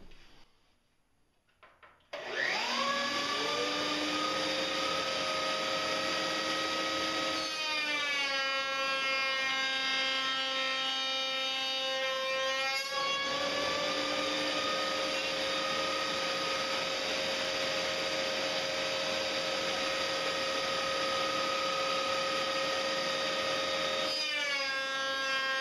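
Festool CMS router table spinning up and cutting wood pieces for a Shaker style cabinet door, with a dust collector running; a steady loud whine holds throughout, with the pitch dipping as the bit bites into each piece.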